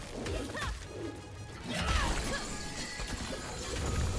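Clay urns shattering in a fantasy action video game, quick crashing breaks amid busy in-game effects and background game sound, moderately loud.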